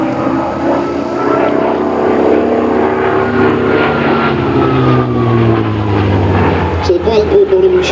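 A Hawker Sea Fury propeller fighter performing a flying display, its loud piston engine droning and shifting pitch as it passes overhead, with a voice speaking over it.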